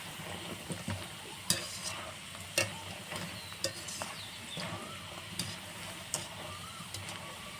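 Raw potato french fries fry in oil over medium heat, a continuous quiet sizzle broken by regular scraping clinks as the pieces are stirred.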